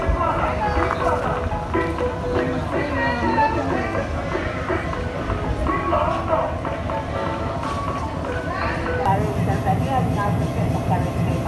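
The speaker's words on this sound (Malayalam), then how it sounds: "ഇപ്പോൾ നമ്മുടെ ട്രെയിൻ ഏകദേശം ഒരു ഊട്ടി ടൈപ്പ് ട്രെയിൻ ആണെന്ന് തോന്നുന്നില്ലേ ഇവിടുത്തെ?" Meter gauge train running through villages in Africa, a steady rattling rumble of wheels and carriages with rhythmic clatter, voices talking over it in places.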